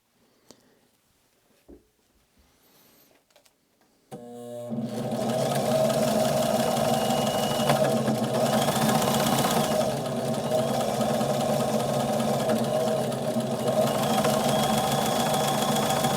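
Sewing machine stitching an automotive upholstery tuck-and-roll seam, starting after a few soft handling clicks and then running continuously with a loud, steady mechanical whir.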